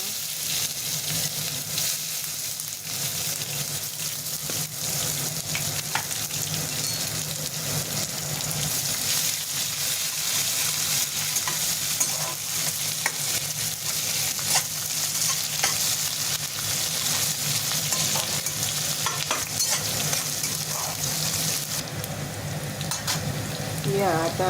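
Onion frying in a pan of hot oil with mustard seeds, cumin and garam masala while pulao is being cooked, giving a steady close sizzle with stirring scrapes throughout and no talk.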